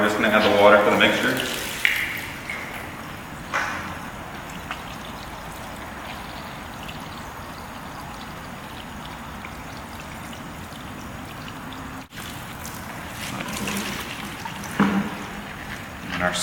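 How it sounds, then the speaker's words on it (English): Water pours into an aggregate mix in a container, a steady rushing trickle that runs on for several seconds with a few clunks of handling at the start and near the end. "So now we're just going to add the water for the mixture."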